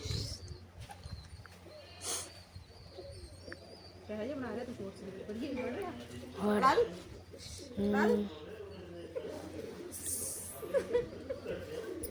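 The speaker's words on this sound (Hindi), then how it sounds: "और ये देखे कबूतर" Soft pigeon cooing murmurs through a busy outdoor scene, with voices and background noise around it, the calls coming in short repeated bursts.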